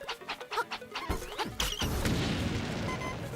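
A bomb exploding in a Game Boy game: a quick run of rhythmic blips and thuds gives way to a loud, crunching blast that settles into a sustained noisy rumble.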